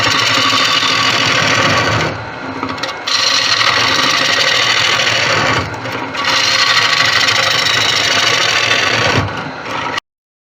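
A wood lathe spins a deep Malaysian acacia bowl while a tool takes down the middle, a loud continuous whirring and scraping that drops away briefly twice as cuts pause, then stops.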